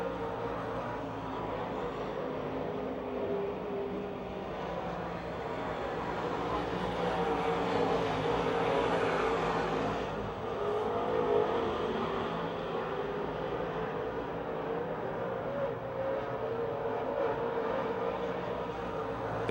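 Race cars lapping the dirt oval at Pennsylvania Motor Speedway in Pittsburgh with two laps to go, a dense far-off engine drone swelling and easing as the field passes.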